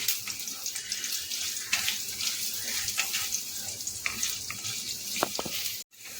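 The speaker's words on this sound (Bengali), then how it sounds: "আলুটা যতক্ষণ না লাল লাল হচ্ছে ততক্ষণ আমি এটাকে নেড়ে চেড়ে ভাজতে থাকবো" Cut potatoes being stirred and fried in a pan for a Bengali mugesshori lau (moong dal with bottle gourd): a continuous bright sizzling hiss with occasional small scraping clicks, moderately quiet, ending in a brief pause.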